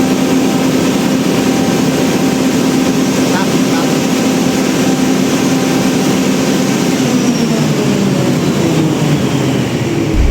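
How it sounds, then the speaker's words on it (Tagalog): A ship's emergency generator drones steadily and loudly throughout, a dense continuous engine roar with a low hum and no clear rundown, filling the whole stretch without pause. "Stop the emergency generator manually."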